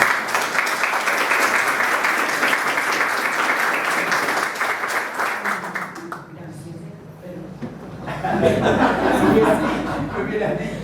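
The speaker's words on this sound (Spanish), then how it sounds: "Un gran aplauso para la profesora." Audience applause for a professor at a literary panel discussion on reading, dense clapping filling the first six seconds, then thinning, with scattered chuckles and murmured voices as the clapping trails off and people talk.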